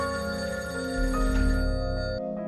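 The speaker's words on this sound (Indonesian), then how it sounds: "telepon itu tiba-tiba berdering" A telephone rings with a bright, steady electronic trill, fairly loud and close, over a low sustained background hum.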